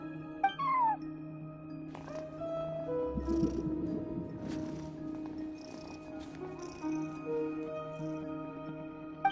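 Cartoonish cat meows from a character in Genshin Impact, a bright rising mew near the start followed by softer purring and chirpy cat sounds over a steady game music backdrop.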